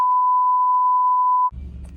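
A single steady electronic beep holds for about a second and a half, loud and pure, then cuts off into low rumbling background noise, heard in a drift car.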